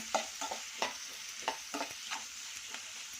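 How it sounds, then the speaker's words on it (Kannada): Two finely chopped onions fry in a pan with a soft, even sizzle, broken by a regular run of scraping stirring strokes about every half second, close up and with no talk. "ಸಣ್ಣಗೆ ಎತ್ಕೊಂಡಿರೋದು 2 ಈರುಳ್ಳಿ ಹಾಕಿದ್ದೀನಿ. ಮಿಕ್ಸ್ ಮಾಡ್ಕೊ ಚೆನ್ನಾಗಿದ್ದು."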